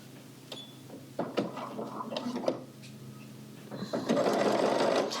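A sewing machine stitches a shoulder seam on a knit top, short whirring bursts of needle chatter close by, stopping and starting before a longer continuous run at the end.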